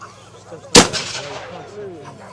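A single loud gunshot fired nearby at an outdoor event in Market Bosworth, a sharp blast followed by a decaying rumble, with voices talking faintly around it.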